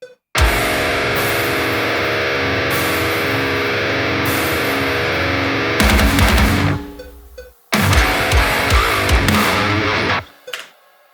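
A programmed heavy metalcore mosh riff demo with loud distorted chugging guitars and drums. It plays in dense bursts broken by abrupt stops.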